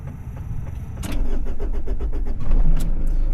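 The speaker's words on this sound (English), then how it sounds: "let me start it up and show you what that's like." A Mitsubishi Delica van engine cranks with a rapid starter chatter, catches after about a second, and settles into a loud, close idle.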